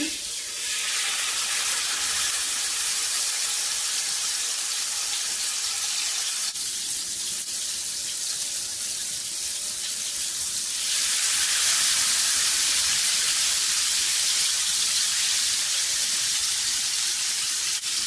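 A loud, steady sizzle of chicken frying in a little oil in a hot pan, close up, the hissing swelling louder partway through and continuing without talk.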